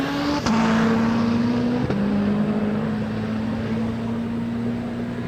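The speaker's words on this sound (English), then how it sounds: "Incredible to see just how quickly that car accelerates and just how it sticks to the surface through the corners" Hill climb race car at a competition event accelerating hard through gear changes, with a loud, steady engine drone and two sharp shift breaks, heard alone without talk.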